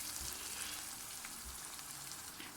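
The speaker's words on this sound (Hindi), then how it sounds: "अब हम इसमें माश की दाल ऐड करेंगे और इसको अच्छी तरह से मिक्स कर लेंगे।" Urad dal stirred into a hot frying masala of tomatoes, a steady close sizzle with soft scraping and stirring throughout, no voices.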